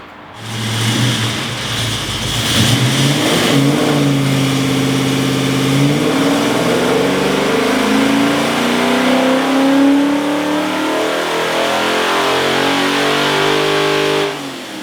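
A Ford 4.6 3V V8 with Ford Racing parts on a dyno makes a loud, sustained pull from about 2,000 to 6,000 RPM, its engine note climbing steadily in pitch over several seconds before cutting off.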